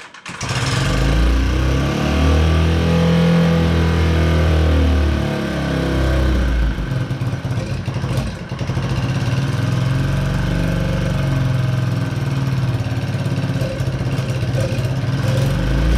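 A Honda Met scooter's small engine running and idling loud and close, a steady buzzy drone that wavers briefly partway through before settling, with no voices.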